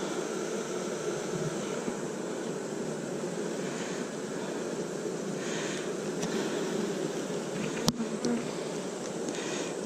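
Agitated honey bees buzz during a hive inspection, a loud, unbroken close-up drone with a few sharp knocks and clicks near the end.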